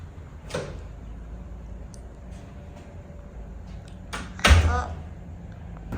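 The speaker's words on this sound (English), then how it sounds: "Close the door." A door swings shut indoors with a single close, brief thud at the end, amid quiet room noise and faint household sounds.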